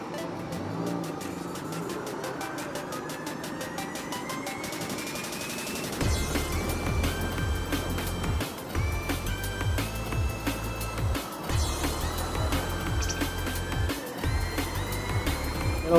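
Slow traffic on a narrow road after a collision between a car and a truck, heard as a constant loud rumble of engines and road noise with rattling and clattering over it, and no clear talk.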